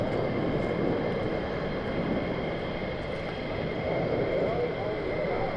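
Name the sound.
F-35 fighter jets returning to RAF Lakenheath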